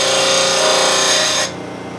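A lathe tool is sharpened on a low-speed grinder with the PSI sharpening system, giving a loud, steady grinding hiss that drops away abruptly near the end.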